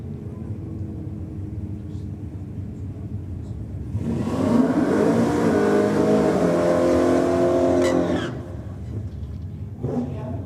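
Holden Commodore drag car launching and accelerating hard down the strip at Sydney Dragway, a loud roaring engine surging for about four seconds before fading, with event background noise around it.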